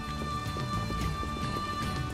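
Steady rain patters densely and continuously in the video game Xenoblade Chronicles 2, with a faint sustained tone running underneath throughout.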